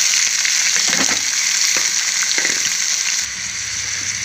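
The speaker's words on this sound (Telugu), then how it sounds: "ఇప్పుడు ఉల్లిపాయ పచ్చిమిరపకాయలన్నీ వేసేస్తున్నాను." Chopped onions and green chillies hit a hot pan of tempered spices and fry with a loud, close, crackling sizzle, with scraping stir sounds, then settle into a quieter, steadier hiss; no voices.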